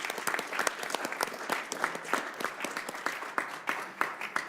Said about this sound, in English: So let's give Ambassador Killian a round of applause